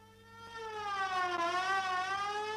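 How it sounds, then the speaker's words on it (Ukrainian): Rising and falling wail of an ambulance siren from a 1988 cartoon, a clear harmonic tone that swells louder and sweeps up and down, heard alone without talk. "Швидка допомога швидше до нас."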